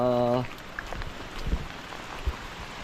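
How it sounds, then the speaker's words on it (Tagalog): Steady rain patters down on a wet rural morning, a continuous close hiss with a few heavier drops, while a voice speaks briefly at the start. "puro ulan po oh maulang umaga"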